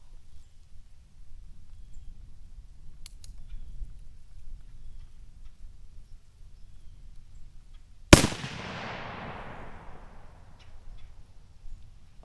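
A single loud rifle shot at a range during a pre-season scope check, cracking sharply after a long stretch of quiet low background rumble and leaving a short decaying echo.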